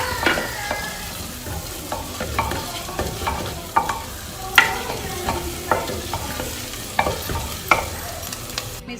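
Ginger, garlic and green chili paste fries with meat in a cooking pot, giving a steady sizzle broken by repeated scraping stirs at a regular rhythm, close and clear with no speech.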